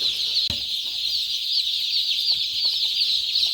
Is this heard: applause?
no